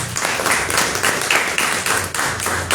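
An audience at a magazine launch and reading claps after a performer finishes. The applause is close and fairly loud, with distinct individual claps forming a short, uneven round.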